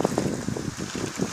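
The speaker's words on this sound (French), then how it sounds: "Le vent de sud-est souffle très fort." Strong south-east wind blows during a thunderstorm in Carpentras, Vaucluse, in March 2017. It is heard as a close, gusty, buffeting rumble with no voices.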